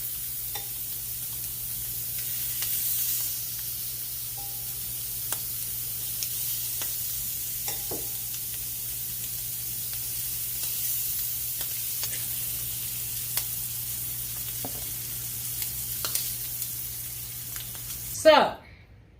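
Shrimp sizzle in a pan with no added oil, a soft steady hiss under a low hum, dotted with faint clicks and stirring, then a sharper burst of sizzling near the end.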